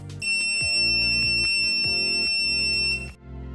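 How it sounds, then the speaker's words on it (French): A steady electronic buzzer tone from an RFID keypad sounds for about three seconds over a series of low mechanical clunks and knocks, then cuts off. "j'en profite pour vous montrer que le buzzer fonctionne parfaitement"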